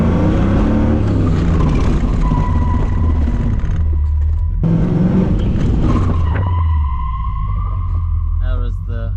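A car performs a handbrake 90 drift turn, its engine roaring loud and close while tires squeal in long sustained tones that break off and resume, ending in a wavering screech.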